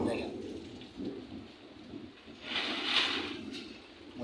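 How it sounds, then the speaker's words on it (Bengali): Thunderstorm over Kachua bazar in Bagerhat: steady rain patters throughout while deep thunder rumbles swell and fade, with a stronger crack near the end and wind in the mix. "বর্ষা এখন যদিও কমছে, কিন্তু মেঘের গর্জন প্রচণ্ড পরিমাণে"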